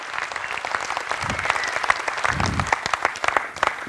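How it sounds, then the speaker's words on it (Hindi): Audience applause, a dense burst of clapping from a crowd at a talk, steady and fairly loud for a few seconds. "अरे ताली तो बजाइए, इतनी बड़ी बात कही है।"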